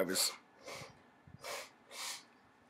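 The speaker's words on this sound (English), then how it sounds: "she was blowing her nose there" Several airy, snorting nasal blasts come in a loose rhythm, close and fairly soft, like someone repeatedly blowing their nose.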